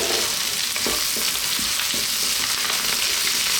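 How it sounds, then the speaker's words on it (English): Chili, turmeric, cumin and coriander frying in hot oil for a potato chickpea curry, a dense, steady loud sizzle close by with a few soft stirring scrapes underneath, no voices. "Get those spices in there just for a few seconds."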